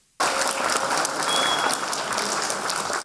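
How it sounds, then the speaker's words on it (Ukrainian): Kolomyia schoolchildren break into sustained applause after a mine safety lesson given by rescue workers, a dense, loud wash of many hands clapping that starts abruptly and holds steady for about three seconds. "Оплески ось така реакція коломийських школярів по завершенні уроку змінної безпеки"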